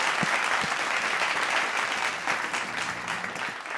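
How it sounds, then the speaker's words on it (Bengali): Audience applause for an award presenter at a dance competition grand finale, a steady wash of close, dense clapping from a crowd throughout. "হাততালি হয়ে যাক অমিত স্যারের জন্য"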